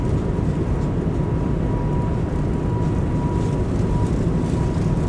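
An airBaltic A220 jet rolls down the runway on takeoff, a steady, loud engine roar with broadband rumble and a faint tonal whine holding evenly throughout, no voices over it.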